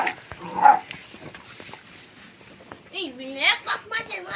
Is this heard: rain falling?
no